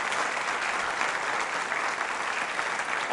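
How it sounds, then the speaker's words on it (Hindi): A school audience at a World Diabetes Day quiz show claps for a visiting doctor, a thick, continuous burst of many hands applauding loudly from start to finish. "तालियां बजाइए इनके लिए भी जोरदार तरीके से आप"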